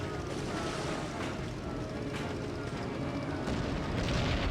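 A torpedo striking a ship in the PS2 video game Heroes of the Pacific at the Battle of Leyte Gulf, a dense, sustained rumbling blast with heavy low-end roar lasting throughout, loud and close.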